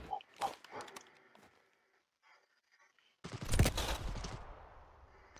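Gunfire in the World War II battle game Ravenfield, scattered shots and bursts early, a near silent gap, then a loud close blast with a rattling burst that fades out.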